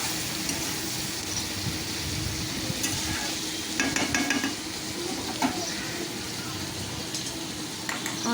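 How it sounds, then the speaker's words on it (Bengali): Chopped tomatoes are stirred into frying onions, bringing a steady sizzle with scraping and clattering of a spoon against the pan, busiest around the middle. "2খানা টমেটো যে কুচিয়ে রেখেছিলাম সেটা আমি এখানে দিয়ে দিলাম, দিয়ে একটু নাড়াচাড়া করে নেবো।"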